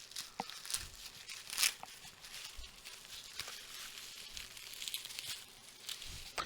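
Package tape is snipped and a mail package opened, with close crinkling, tearing and rustling of plastic and paper in small irregular bursts.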